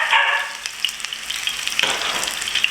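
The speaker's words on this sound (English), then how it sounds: "Next, I'll place it in the frying pan," Shrimp for Trinidad curry shrimp and pigeon peas sizzle and crackle in a hot frying pan, a close, steady fry with scattered pops and a brief stirring scrape.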